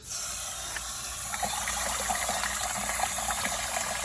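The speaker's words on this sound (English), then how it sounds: "So all we're gonna do is rinse them off." Water runs and splashes over a load of grit-covered tumbled rocks as they are rinsed, a steady gushing wash with faint clicks of stone knocking together, close and continuous with no talking.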